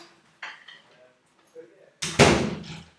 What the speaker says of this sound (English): Sorry, I'm just going to shut the door.